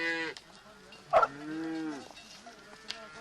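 Cows mooing in a mountain village setting, a few drawn-out lowing calls with one louder bellow near the middle, fairly close and clear with no talk over them.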